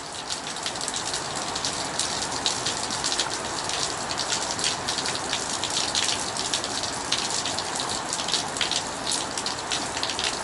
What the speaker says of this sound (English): See, it's draining down like a waterfall.